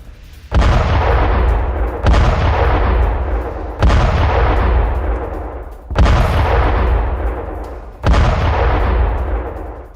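Five heavy booming blasts at roughly two-second intervals, each a sharp loud impact followed by a long rumbling decay.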